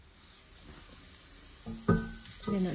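Garlic sautéing in a hot pan for a vegetarian meal, a faint low sizzle that swells near the end with a few stirring scrapes and louder bursts of frying.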